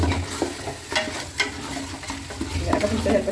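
Chicken and masala are stirred together in a pan with a close, uneven sizzle and repeated scraping strokes, the frying hiss rising and falling with each turn.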